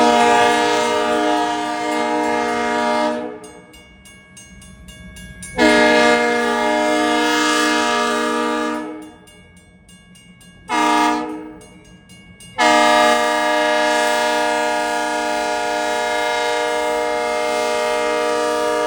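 Freight train horn blowing repeatedly as it approaches through a small Lancaster County, Pennsylvania town, loud sustained blasts separated by short gaps, with rail rumble underneath.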